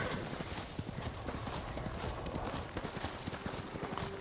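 Steady clip-clop of horse hooves trotting at an even pace in the video game Ghost of Tsushima on PS5, with a faint voice in the background.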